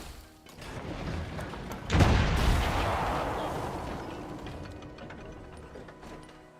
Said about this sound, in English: Let's get a howitzer up here. Shoot their field gun.